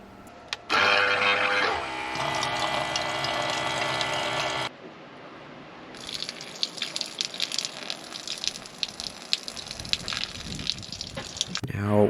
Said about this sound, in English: right now I do have the water draining through the truck bed onto the ground